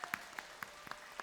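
A church congregation clapping to welcome elderly grandparents at a Sunday service, a few sparse, fairly faint claps spaced out over a quiet room.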